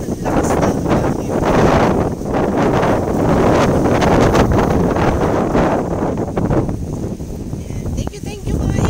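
Strong sandstorm wind in Casablanca, Morocco roars and buffets the microphone continuously, a heavy rumbling gust noise throughout with slight fluctuations.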